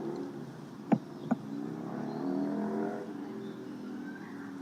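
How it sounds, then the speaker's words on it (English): Car engines revving near a racetrack are heard faintly in the distance as a steady drone, with two brief sharp bangs near the start. "Just hear them deliberately revving their engines."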